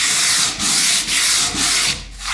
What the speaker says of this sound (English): So we're going to take our 60 grit and we're going to dig in.